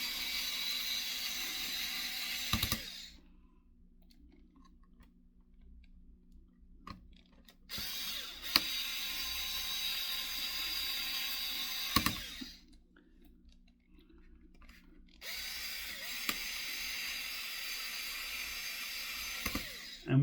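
Screws come out of an HP 15-db0048ca laptop during a battery replacement as a small power screwdriver whirs in three bursts of several seconds each, with quiet gaps and faint clicks between them.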